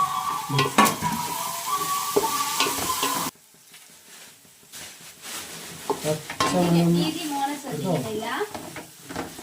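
Ground green chili paste sizzles as it is stirred in a pan, a spoon scraping and clinking over a steady frying hiss that drops lower partway through, with a voice speaking over it.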